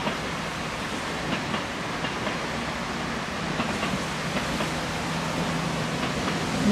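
Train arriving at a Japanese station platform, a steady loud rumble with faint rhythmic clatter of wheels building toward the end.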